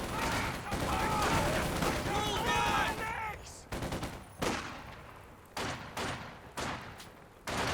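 Rifle fire and other gunfire in Company of Heroes 2, starting as dense continuous shooting with whistling tones, then thinning into separate sharp bursts and cracks at irregular intervals, fairly loud and with no talking.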